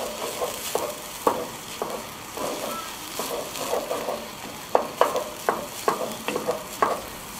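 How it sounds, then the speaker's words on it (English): Tomato paste being stirred into onions frying in a pan for Szegedine goulash: a soft, steady sizzle under repeated scraping spoon strokes, with a quicker run of sharp scrapes near the end. "Time to mix in the tomato paste."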